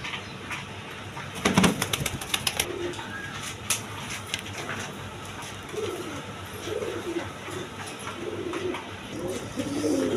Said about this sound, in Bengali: এখানে একটা গররা নর কবুতর আছে, চুইটাল গররা নর।